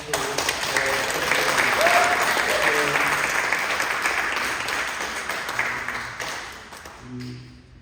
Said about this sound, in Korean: 우리 말씀 전해주신 정평 목사님께서 다시 한번 격려의 박수